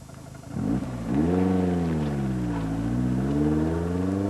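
A Lotus mid-engine sports car accelerates hard, its engine note rising in a steady, loud harmonic sweep after a brief gear change, close by with no talk.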